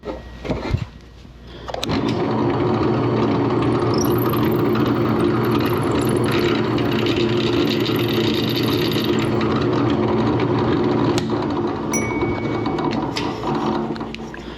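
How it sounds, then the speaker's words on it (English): A power drill whirs steadily at a constant pitch for over ten seconds, boring through a wooden dowel held in a drill vise, starting after a brief click and fading slightly at the end. "we're going to drill all the way through."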